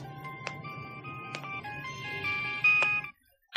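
A mobile phone rings with a bright, melodic electronic tune playing in a short repeating pattern, moderately loud indoors, then cuts off abruptly.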